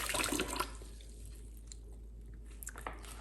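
Water rushes and splashes through trumpet parts being flushed during cleaning, a loud gurgling burst at first that quickly fades to quiet drips and faint trickles, close by with no talk.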